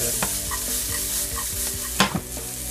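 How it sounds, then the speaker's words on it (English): Hickory smoked bacon and Canadian bacon sizzle in a hot pan with a steady crackle, punctuated by a few sharp utensil clinks and scrapes. "Let's caramelize that a little bit. And let's put the hickory smoked bacon"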